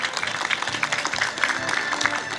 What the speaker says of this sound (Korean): 참석하신 모든 어르신께 우리 모두 힘찬 환영의 박수를 부탁드리겠습니다